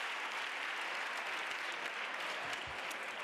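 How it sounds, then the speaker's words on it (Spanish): Audience at an international feminist conference applauding speakers on a panel, a continuous, even burst of clapping heard at moderate distance with no pauses. "Aplaudimos muy fuerte a mis compañeras."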